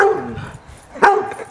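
A dog playing in a backyard gives two short, sharp yipping barks about a second apart, close and fairly loud, with no talking.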